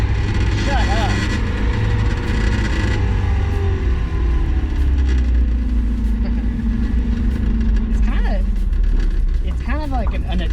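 A Mazda Miata's engine growls steadily while the car drives, with faint clanks and creaks from the car mixed in and a person talking over it.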